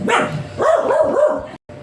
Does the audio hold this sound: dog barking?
yes